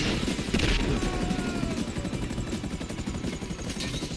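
A helicopter's rotor drones steadily in the action game GTA Online, masked by dense rattling gunfire and crashes throughout.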